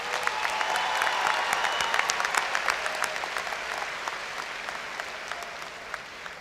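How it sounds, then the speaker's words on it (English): Sustained audience applause for a graduating high school class, many hands clapping in a loud, dense roar with scattered sharp claps, easing slightly toward the end. "Let's give a round of applause to our class of 2025."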